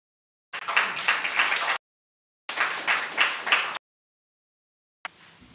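Audience applause at an economics lecture on hidden drains on African growth comes in two firm bursts of about a second each. The bursts are separated by silence, and a fainter third burst starts at the end.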